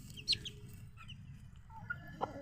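Soft, intermittent clucks from a chicken, a few brief calls spread out over a low background rumble, fairly quiet and close.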